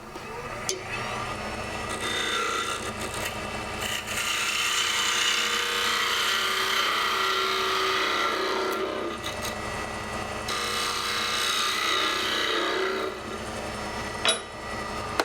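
Small spindle detail gouge taking a pass across a wood box blank turning on a lathe, a sustained scraping and hissing cut close up that pauses briefly midway, with a whirring motor underneath.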